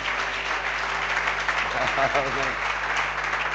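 A church congregation applauds in a steady, dense wash of clapping while a voice speaks briefly over it, both fairly loud and close.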